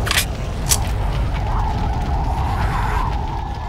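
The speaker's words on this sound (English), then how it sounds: "I'm reloading!" Weapon reloading in a realism war video game: a steady mechanical clatter and ratcheting under a constant low rumble, with two sharp metallic clicks early on, close and fairly loud, no talking.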